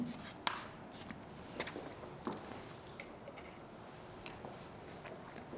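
Chalk or marker writing on a board in a French classroom lesson, a quiet series of short scratchy strokes and taps spread across several seconds with faint room tone and no talking.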